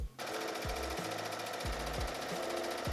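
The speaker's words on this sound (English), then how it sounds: "now I'm going to go ahead and sew both of these seams" A sewing machine stitches the seams of a cottagecore overall dress in steady, fast mechanical rattling, loud and close, with the needle's thump repeating in short bursts and brief pauses between runs of stitching.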